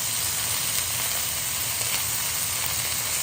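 A flipped pepper steak sizzles loudly and steadily in a hot pan, a dense close hiss that holds without letting up.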